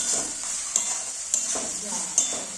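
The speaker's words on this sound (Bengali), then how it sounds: "এবার সুন্দরভাবে মশলাটা কষে নেব। মশলাটা দিয়ে তেল ছাড়তে শুরু করে দিয়েছে" Masala spice paste frying in hot oil in a pan for Bengali-style kosha aloor dom, a steady close sizzle with a few sharp scrapes of a spoon stirring through it.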